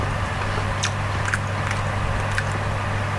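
Close, quiet bites and chewing on a piece of baked whiting fish with a crunchy breadcrumb, tomato and garlic topping, a few soft crisp crunches over a steady low hum, no speech.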